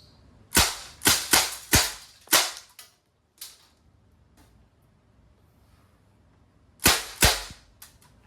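Crosman R1 airgun firing semi-automatic, a quick run of five sharp, loud cracks followed by a few fainter clicks, a long quiet pause, then two more close shots.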